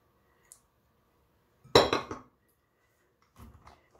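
Spoon or whisk knocking against a bowl as sour cream is stirred into peach cake batter, with a faint tap, a loud clattering burst of scraping clinks, then softer stirring knocks later; no talking.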